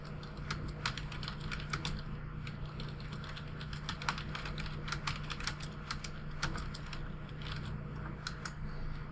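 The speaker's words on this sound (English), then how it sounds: "Bunch of just garbled typing stuff like would be generated when you see people typing on keyboards on television" Rapid, irregular clattering of a computer keyboard, with many quick key strikes in uneven bursts, typed steadily and close by for several seconds with no talk.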